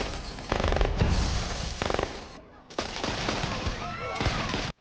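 Bursts of rapid gunfire crackle in a film scene, several volleys separated by brief pauses, loud and close, ending abruptly.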